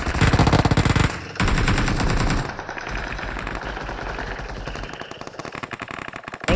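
Machine gun sound effect fires in rapid bursts, a loud rattling stream that cuts off briefly, resumes, then fades into quieter sputtering shots before a final burst.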